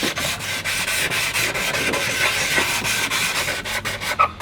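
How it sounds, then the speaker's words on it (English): Wooden board being hand-sanded with 240-grit sandpaper dipped in liquid, a close, loud rhythmic rubbing of repeated back-and-forth strokes with short gaps between passes. "See how it's getting easier to sand now because there's not as many scratches, it's a bit smoother."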